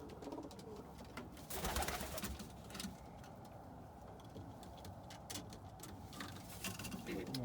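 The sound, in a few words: pigeons cooing, opal and almond pattern pigeons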